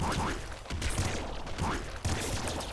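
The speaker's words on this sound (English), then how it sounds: "this seems like a really good place to use our corpse explosion" Corpse explosion in the top-down shooter Nuclear Throne, heard as loud blasts and crackling gunfire bursts that repeat in quick succession, with a player talking over the action.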